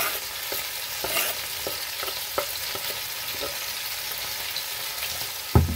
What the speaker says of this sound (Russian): Жарим. Мясо у нас поджаривается.